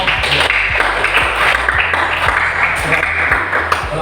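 A classroom group applauds together, a sustained wash of many hands clapping with a steady, dense texture throughout.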